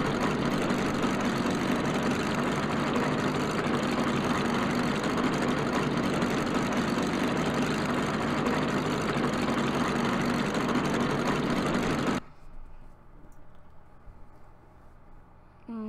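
A loud, steady engine drone of a FireHawk vehicle in the video game BeamNG.drive rumbles continuously for about twelve seconds, then cuts off abruptly, leaving only faint low background noise.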